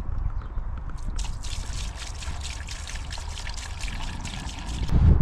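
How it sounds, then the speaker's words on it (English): Diesel fuel pours down a tube into a new diesel tank, making a steady close trickling and dribbling liquid sound that runs throughout, with a heavier rush near the end. "I'm going to start filling up this new diesel tank"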